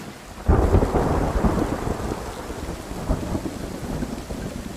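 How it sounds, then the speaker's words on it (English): A heavy tropical thunderstorm in Africa: a deep rumble of thunder breaks in and rolls on over the constant roar of pouring rain. "tropical storms that never seem to stop"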